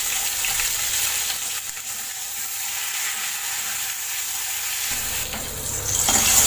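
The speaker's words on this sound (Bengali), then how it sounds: "এবার আমি শিমগুলো ভেজে নেব।" Flat beans fry in oil in a pan, a close, steady crackling sizzle that dips briefly midway, then grows louder and busier with stirring toward the end.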